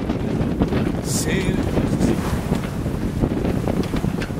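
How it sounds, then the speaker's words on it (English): Wind rushes steadily past the microphone aboard a sailboat under sail on a cruising voyage, with broadband gusty noise and a faint wash of water throughout. "Yes, we're actually sailing."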